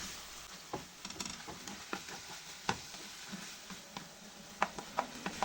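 A spoon stirs musakka ingredients, eggplant seasoned with pepper flakes and salt, together in a pan. Irregular scrapes and sharp clicks on the pan sound over a soft, steady sizzle.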